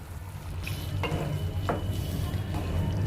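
A spice paste for corn curry is stirred and fried in a pan. A steady, moderate sizzle carries on throughout, broken by a few scraping strokes of a spoon and a light clink. No one speaks.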